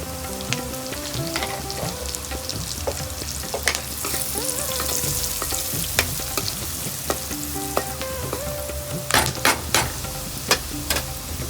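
Curry leaves and chilli seasoning sizzle and crackle in hot frying oil for a bitter gourd karam, with steady frying hiss, scattered pops and stirring clatter, loud and close with no talking.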